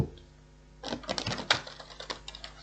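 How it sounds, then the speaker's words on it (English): Tarot cards are riffled and shuffled in quick, dry flutters and taps that start after a brief quiet pause, close and soft. "One more shuffle."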